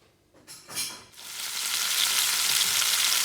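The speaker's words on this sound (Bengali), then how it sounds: "এখন অল্প আছে হালকা তেল দিয়ে আমরা সাসলিকগুলো ভেজে নেব, একদম বেশি ডুবা তেলে ভাজবো না" Chicken shashlik skewers fry in a shallow film of oil, starting with a few soft crackles and then settling into a steady, close, loud sizzle that holds to the end.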